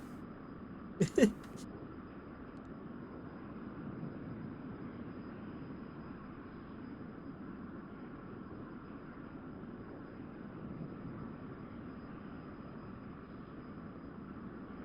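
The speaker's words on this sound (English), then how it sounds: "Chinook carrying Spec Ops squad and a salvage crew. It's a low fly through all the mountains, up the river" A Chinook helicopter in the game Broken Thunder 1989 flies low through mountains and up a river, a steady, even droning rumble that holds throughout after a brief sharp click near the start.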